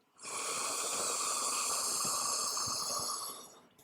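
A long, deep inhale drawn through the nose during a morning yoga session, a close, steady airy rush lasting several seconds before easing off.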